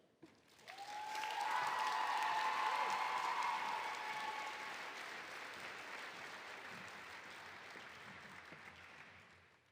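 An audience at a 4-H closing assembly at Oklahoma State University breaks into sustained applause. The clapping swells quickly, holds strong for a few seconds and then tapers gradually while continuing, with scattered cheers near the start.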